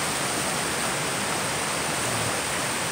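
Floodwater from a pond after heavy rain pours out into a creek on a rural homestead, a loud, continuous rushing roar of water filling the air without pause.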